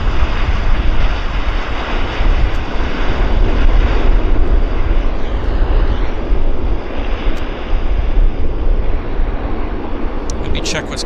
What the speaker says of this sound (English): Nice rollout on the WestJet.